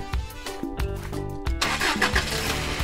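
A cartoon Jeep engine starts up with a few sputtering cranks, then catches into a loud, steady running rumble.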